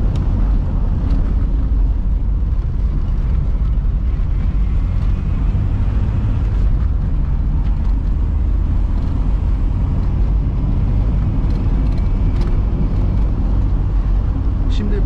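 A Tofaş Şahin with a 1.8 LPG engine accelerates up a winding mountain road. A steady, loud low engine roar fills the cabin, mixed with rushing wind and road noise throughout.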